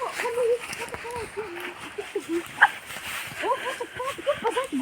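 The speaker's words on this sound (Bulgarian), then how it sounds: "Има някакво кученце тук." A small puppy whimpers and yips in short, high, wavering cries scattered through the clip, close by and fairly soft, with a louder bark-like burst near the middle.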